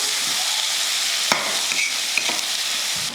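Onion, green chili, garlic and dried fish sauté in a hot pan with a steady, close sizzle, broken by two sharp spatula knocks against the pan.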